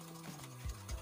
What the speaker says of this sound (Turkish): Göz göz olana kadar karıştıralım.